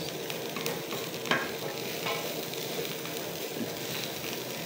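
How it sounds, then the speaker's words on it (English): Steady, dense sizzling of food frying without oil in a pan, continuous and fairly loud throughout, with occasional stirring scrapes. "I don't put oil while frying this."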